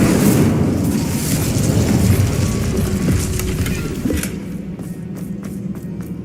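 The Incendio fire spell cast in Hogwarts Legacy, a loud roaring whoosh and rumbling burst of flame that holds, then fades into a quieter crackling tail with a few light taps.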